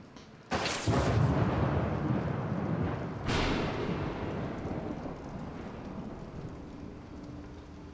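Thunder rolls through a storm in the video game Bendy and the Dark Revival: a sudden loud crack and rumble, then a second strike a few seconds later, both fading into a steady rain-like roar.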